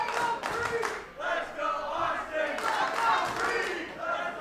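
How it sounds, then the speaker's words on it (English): A large wrestling arena crowd roars and cheers steadily at a battle-rumble match, a dense, loud wall of shouting voices that swells and holds throughout. "you hearing this crowd? There's a crowd."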